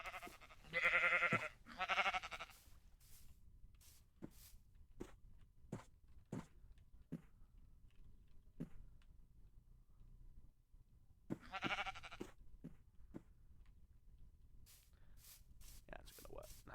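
Minecraft sheep bleating in short bursts at a moderate distance, with a voice talking throughout and scattered sharp game clicks and footstep-like ticks between the calls.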